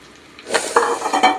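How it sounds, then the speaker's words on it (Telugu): Boiled tomatoes drop into a hot peanut-oil tempering and sizzle, followed by a few short scraping stirs in the pan. The sizzle is close and brief, and no one speaks. "ఉడకబెట్టిన టమాటా దాంట్లో వేసుకుందాం."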